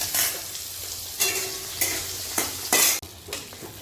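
Pointed gourd and other vegetables frying in hot oil, stirred with two metal spatulas in repeated scraping bursts over a constant sizzle, close and loud with no talking.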